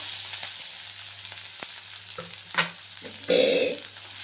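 Onion hitting hot oil with curry leaves, green chillies and mustard seeds in a kadai, a loud burst of sizzling after quieter frying crackle and a few stirring scrapes, no talk.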